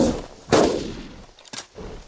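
Two sharp gunshot blasts ring out about a second apart, each with a short echoing tail, as video game gunfire in Carnivores Dinosaur Hunter Reborn.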